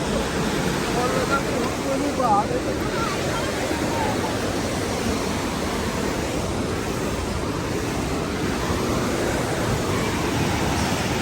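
Snowmelt river water rushing along the trail from Govindghat toward Govind Dham, a loud unbroken roar of flowing water close by, steady for the whole stretch with a wind-like wash.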